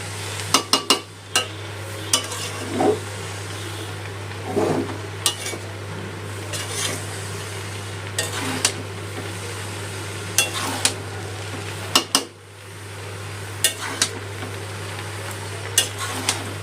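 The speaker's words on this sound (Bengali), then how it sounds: "নেড়ে সব মিশিয়ে নেবো এবারে।" Chinese-style fried rice with vegetables being stirred and mixed in a pan over a medium gas flame: a spatula clinks and scrapes at irregular intervals over a low, steady frying hiss, with no talking.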